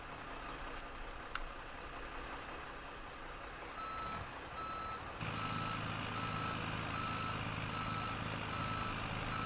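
A Dodge dump truck backs up in Farming Simulator 17, steady repeating reversing beeps over a low idling diesel engine that grows slightly louder partway through, no talking.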